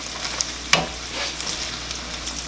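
Canned asparagus with onion and garlic frying in a pan, a soft continuous sizzle broken by a sharp scrape of stirring near the start and light clatters afterward.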